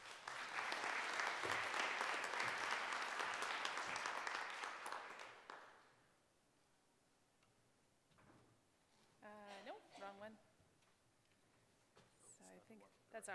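A conference audience applauds loudly to welcome a speaker, a dense, sustained clapping that fades out after about six seconds, leaving near silence before a voice begins to talk softly.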